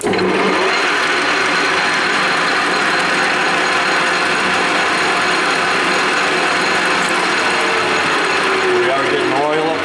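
A Victor 1640 toolroom lathe runs steadily after being shifted into high gear, a loud continuous mechanical whir with gear and ratchet-like chatter throughout.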